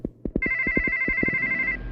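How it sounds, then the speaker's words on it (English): Cell phone ringing with a steady electronic ringtone near the microphone, accompanied by a rhythmic series of tapping pulses, then stopping shortly before the end. "And then my cell phone rings."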